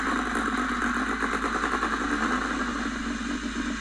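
An engine sound module plays a short course buggy engine sound for a Jeep with a straight-six 4-liter, a steady, continuous rumbling idle with rapid, even pulsing throughout.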